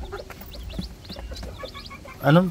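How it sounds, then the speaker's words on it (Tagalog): Newly hatched Rhode Island Red chicks peep in quick, high, repeated chirps close by, with a louder burst of cheeping near the end and soft background noise throughout. "Ganda ng sisiw."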